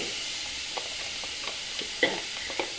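A turnip and fenugreek mash being roasted in a kadai gives a low, steady sizzle, with a few soft scrapes and one sharper clack of the stirring spoon against the pan.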